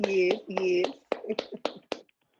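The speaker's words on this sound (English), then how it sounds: "everybody clap it up for each other" A handful of scattered claps from a small group, loose and uneven, following a stretch of talking.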